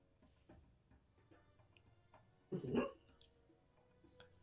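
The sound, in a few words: dog barking in its sleep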